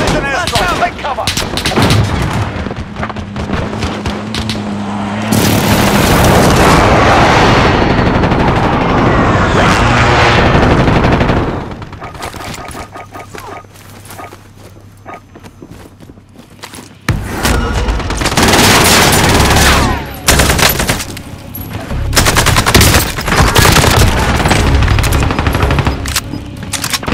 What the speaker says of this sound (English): Enemy position airstrike.